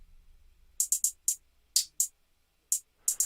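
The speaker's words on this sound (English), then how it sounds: "Then for a hi-hat, it's a pretty simple pattern." A crisp programmed hi-hat pattern from an FL Studio beat intro plays as short, bright ticks in uneven groups of two and three, isolated and clean with gaps of near silence between them.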